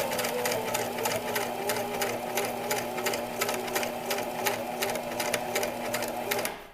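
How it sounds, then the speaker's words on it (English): A sewing machine runs continuously at a fast, even rhythm of rapid zigzag stitching, close and steady, stopping abruptly at the end. "I'm going to put that under my sewing machine, line it up, clamp down"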